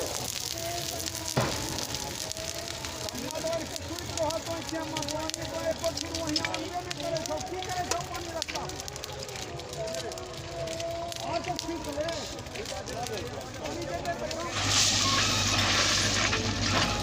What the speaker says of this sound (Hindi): वेल्डिंग की काम हो रही है, पटरी वेल्डिंग की